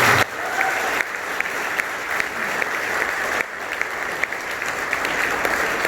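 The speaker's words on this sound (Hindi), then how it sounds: "तो आपकी ताली में वो गूंज मुझे कब दिखाई देगी?" A crowd applauds steadily and loudly for several seconds, with a brief dip in the clapping partway through before it picks back up.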